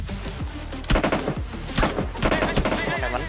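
Gunfire in a PUBG Mobile match rings out in several sharp bursts, with a dense, busy game mix underneath and team voices chattering over the shots.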